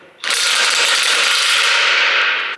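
A 3/4 inch impact wrench working on a farm planter during maintenance, one loud sustained burst of harsh buzzing rattle that starts abruptly and runs for over two seconds, close up with no voices.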